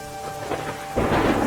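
Torrential monsoon rain pours down in Kutch, Gujarat, as a dense steady hiss of rain that grows heavier and louder in the second half.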